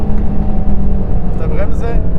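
A Mercedes-AMG GT Black Series sweeps at high speed through a fast left-hand curve, its engine droning loud and steady from close by with a brief rise in pitch near the end, no talk over it.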